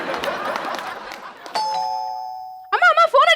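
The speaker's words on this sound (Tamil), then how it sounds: "காலிங் பெல் அடிக்குது, யாருன்னு போய் பாரு" A two-tone electronic doorbell rings clearly after a stretch of busy voices in a household scene from a Tamil television comedy, its chime sustained and then followed by more speech.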